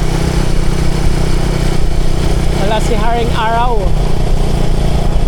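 Motorcycle riding on an open road with a steady, continuous engine and wind rumble throughout, while someone talks over it in the foreground.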